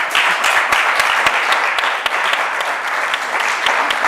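Applause from the audience during a panel session in a theatre hall, a loud, dense clatter of many hands with distinct sharp claps popping out, continuous across a few seconds.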